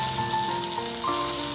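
Cashews and raisins frying in a hot pan for rice payasam, a steady close sizzle with faint scraping, continuous and even throughout with no voices.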